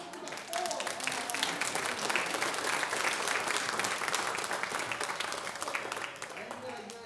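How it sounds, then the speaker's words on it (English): A church congregation claps steadily in a full, even round of applause that swells in and gently tapers near the end, heard from within the room. "give them a round of applause"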